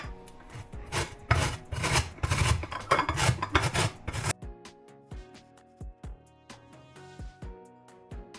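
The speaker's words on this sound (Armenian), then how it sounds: "Հիմա անցնում ենք քերելուն։ Ինչպես նշեցի, 1 հատ լիմոնի կեղևը պետք է քերենք։" A lemon is grated for zest, giving rapid close rasping strokes at first, then slower separate scrapes, with no talking.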